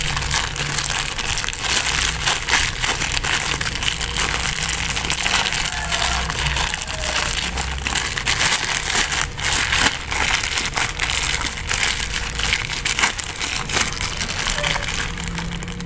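A thick, sticky fish bait dough for tilapia being stirred and mashed by hand gives a steady, close crunching and squelching texture that runs on without pause, with no talk over it.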